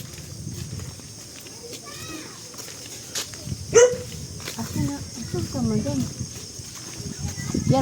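A crowd of dogs on a farm in Isabela Province gives off scattered yelps and short rising whines, some close and some farther off, over shuffling footsteps and people talking.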